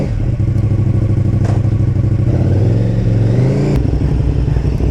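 A KTM motorcycle engine revs and pulls hard while riding, loud and close, its pitch climbing through gears with a couple of clunky shifts and no voices over it.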